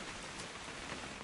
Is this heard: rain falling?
yes